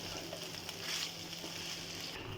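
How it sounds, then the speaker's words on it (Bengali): Boiled rice being stirred in a frying pan, a steady soft sizzle with faint scraping throughout, close and continuous with no talking. "সিদ্ধ করে রাখা সেই রাইসগুলো দিয়ে তারপরে আমি একটু নেড়ে নিচ্ছি"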